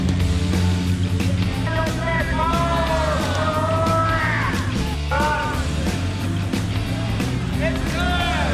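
Airshow crowd at a grass-runway STOL short field takeoff and landing competition, a dense wash of yelling and cheering voices with shouts rising above it, mixed with a low engine rumble, loud and continuous.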